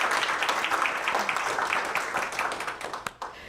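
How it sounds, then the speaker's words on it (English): Audience clapping at an awards ceremony greets Terry Fontaine, a dense patter of many hands close by that thins and fades toward the end. "Please give a round of applause to Miss Terry Fontaine"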